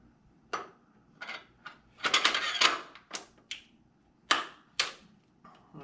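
A Steyr AUG rifle's mechanism is locked back together, giving a run of close, sharp metallic clicks and clacks with a rattling burst in the middle and no speech.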